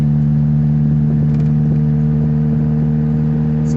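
A Mazda Miata's engine drones steadily at around 2,500 RPM while cruising, a constant low hum with faint clattering on top and no voices.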